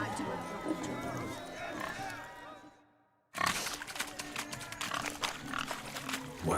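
Pigs grunting and oinking in the Witcher 3 video game, mixed with hoof clatter and running, under game voices. The sound cuts out briefly midway, then resumes busier and louder.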